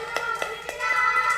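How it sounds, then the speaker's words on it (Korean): A church congregation applauding, with a few distinct claps opening into a steady patter of clapping that thickens and grows louder toward the end, fairly close. "수고한 친구들에게 다시 한번 뜨거운 박수."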